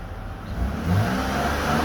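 Lexus ES 350 with a faulty air flow sensor, poor fuel economy and black smoke, revved from idle: a steady close engine drone swells into a brief rise around the middle, then holds at a raised level, with no talk.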